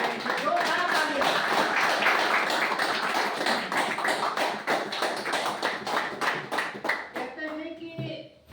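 Audience at a Modicare meeting clapping loudly for new guests, dense sustained hand claps that thin into scattered claps near the end.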